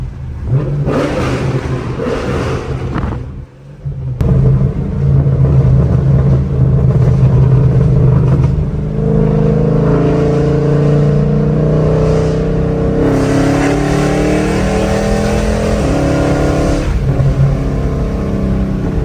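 A 5.7 Hemi V8 in a Chrysler 300C with an unlocked PCM and pop-and-burble tune, revved hard and loud close by, with a brief cut between blips and then a rising, rumbling climb through the revs.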